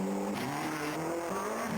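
A person's voice imitates a revving rally car engine while playing the World Rally arcade game, producing a steady, buzzing drone that shifts pitch and runs continuously and close for the whole stretch.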